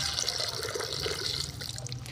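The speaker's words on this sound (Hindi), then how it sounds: "इनके आगे आप पानी डाल देते हैं" Water poured out on the ground in front of pigeons makes a steady, close splashing and trickling wash that runs unbroken and fairly loud for the whole stretch.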